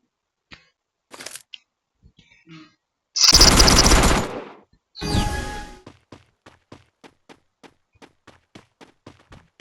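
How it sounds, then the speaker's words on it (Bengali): Gunfire in a video game shooter match: a few sharp shots, then two dense bursts of automatic fire around the middle, followed by a steady run of quieter single shots at an even rhythm. "ওই যে ফায়ার করতেছে আমার।"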